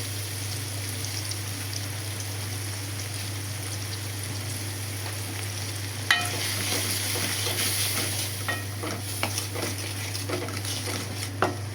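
Spice paste of turmeric and chili powder with salt is stirred in a hot pan, with a steady low hum giving way after six seconds to crackling sizzle and scattered scraping taps of the spoon, close and moderate.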